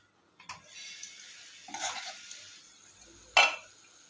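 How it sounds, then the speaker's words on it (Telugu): A lid goes onto a pot of pumpkin curry sweetened with jaggery, one sharp metallic clank standing out after softer clinks and scrapes, with low kitchen ambience and no voices. "ఒక 2 మినిట్స్ మూత పెట్టి మగ్గనిద్దాం."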